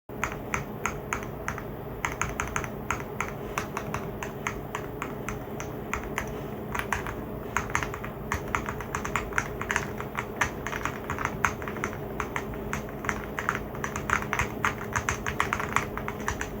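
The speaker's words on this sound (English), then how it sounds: "one of the things I always look for in a keyboard is how it actually sounds" Steady, rapid clacking of a MADE68 Ultra V2 mechanical keyboard being typed on, crisp, close keystrokes continuing without pause.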